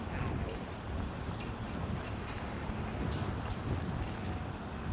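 Outdoor wind buffets a microphone fitted with a muffler, producing a constant low rumbling roar with no clear pauses throughout.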